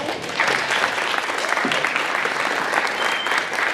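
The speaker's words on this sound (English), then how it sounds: "can we please give them a round of applause?" A crowd at a middle school spring concert applauds the music teachers, sustained dense clapping from many hands that holds steady and fairly loud throughout.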